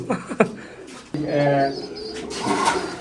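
Imported pigeons coo at a large pigeon farm, with soft throaty calls close by, mixed with people talking and a few sharp handling knocks.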